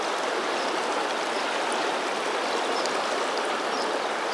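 The wide South Fork of the Snake River flowing past the bank, a steady hissing rush of moving water, close and unbroken with no voices.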